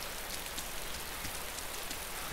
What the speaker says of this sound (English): Probably because it's rainy and foggy, so...